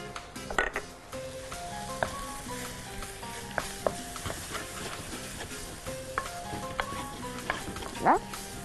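Pasta sauce with lemon juice and garlic powder is stirred in a pan, producing a continuous soft sizzle with repeated close scraping strokes and a few light utensil knocks.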